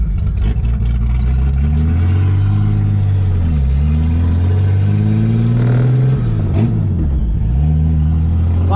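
A turbocharged Chevrolet Opala engine revs hard at full throttle, loud and close, its pitch climbing, dipping and surging again through repeated throttle blips.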